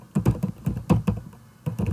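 Quick keystrokes on a computer keyboard while working in Microsoft PowerPoint, a few short bursts of close, crisp tapping with brief pauses between them.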